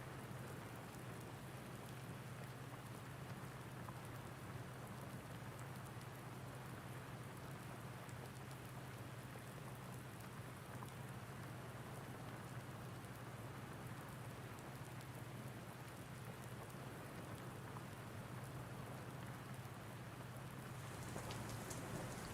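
Steady, heavy rain from a Farming Simulator 19 thunderstorm, a dense unbroken hiss with a low constant hum beneath it, holding evenly throughout without any voices.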